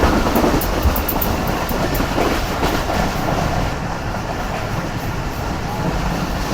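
Karakoram Express runs fast along the rails, a loud steady roar of wheels with rattling carriages and faint rhythmic clatter, continuous and close from inside the moving train.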